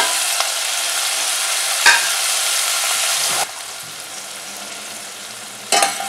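Tomato fries with asafoetida, curry leaves, small onion and green chilli in a pan for hotel-style sambar, giving a loud, continuous sizzle that drops in level partway through, broken by a few sharp scrapes of stirring.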